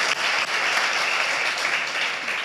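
A congregation at a church service applauds in a steady, dense wash of clapping that fills the whole moment without a break, with no talking over it.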